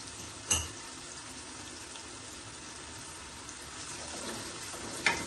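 Onions sautéing lightly in a pan for a mixed vegetable sabzi, a soft, steady sizzle at low level, broken by a couple of brief clinks or stirs near the start and end, with no voices.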